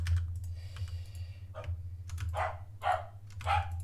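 Indoors over a steady low hum, a dog barks three short times in quick succession, moderately close and fairly loud, following some faint clicking.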